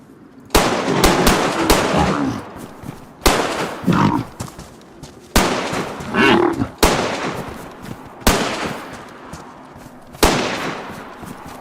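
Loud gunshots in the survival video game DayZ come as sharp single reports at irregular intervals, each with a booming decay, roughly seven or eight shots in all.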